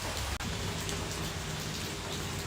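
Light rain falls on a farm field, a soft, even hiss of drops pattering on the ground and crops, steady and close with no voices.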